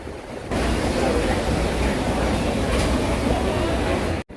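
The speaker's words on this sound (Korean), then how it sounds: "어디에도 파도가 치는 바로 이곳에" Ocean surf breaking at Bondi Beach in Sydney makes a steady, close, full roar of rushing water that holds nearly unbroken for several seconds, then cuts off briefly at the very end.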